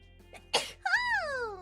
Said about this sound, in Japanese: あ、くしゃみしちゃいそう